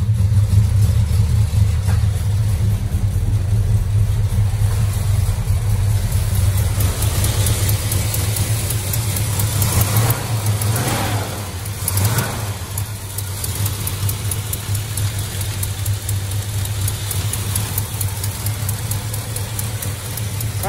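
A 1970 Dodge Charger with a 440 engine runs loud and close, a deep steady idle with a couple of brief revs swelling and falling midway, then settling back into the rumble.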